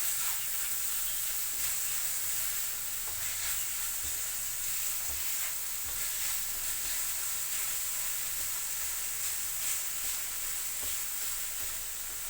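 Chopped onions hitting hot cooking oil in a pan give a steady, close sizzle with a constant bright hiss, alone and at an even level throughout.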